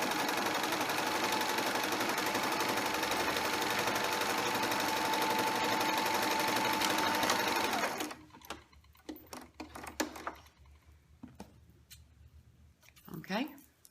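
A sewing machine runs in a long, even, fast burst while stitching and back-stitching the side seam of a Minnie Mouse pillowcase dress. It stops after about eight seconds, followed by quiet handling noises and a voice.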